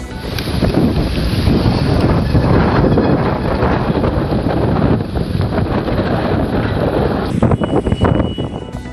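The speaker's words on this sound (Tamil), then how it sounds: "திடீரென வீசிய சூறாவளி காற்றால் அவதிக்குள்ளான வாகன ஓட்டிகள்" Cyclone-strength wind roars and buffets the microphone in a continuous gusty rush, loud and close, easing slightly near the end, in Vadalur, Tamil Nadu.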